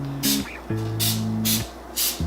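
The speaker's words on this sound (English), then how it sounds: "So I just do a light spray." Several short bursts of natural cooking oil spray hiss onto mini pie tins, four quick spritzes spaced apart, close and crisp, under a low steady hum.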